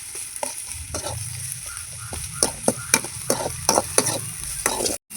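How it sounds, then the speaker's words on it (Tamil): Ginger garlic paste sautéing in a pan in a village kitchen, a soft continuous sizzle broken by a series of sharp spatula scrapes and clinks against the pan, close and without talk. "இஞ்சி பூண்டு பேஸ்ட் போட்டு வதக்கணும்."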